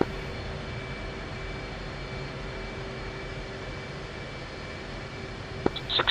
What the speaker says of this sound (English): Sixteens are taxiing now.